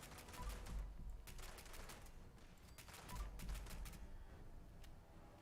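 A full magazine emptied in Fallout 76: two quiet bursts of rapid gunfire, each a rattling string of shots with low thumps, separated by a short gap.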